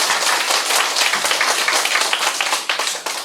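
A congregation at a religious lecture gives a round of applause, many hands clapping in a loud, even, continuous burst that tapers slightly toward the end.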